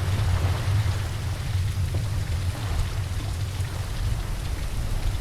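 Steady rain in the video game The Lightkeeper, a dense continuous hiss of falling drops with a low rumbling wash underneath, even and unbroken throughout, with no voices.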